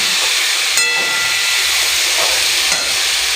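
Pumpkin curry with chickpeas, turmeric and salt sizzling in a pan while being stirred, a loud continuous frying hiss with faint scraping, no voices.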